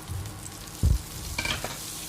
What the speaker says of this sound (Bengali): চিংড়ি মাছ ভাজা তেলটার মধ্যে এবারে দিয়ে দেবে শাপলাটা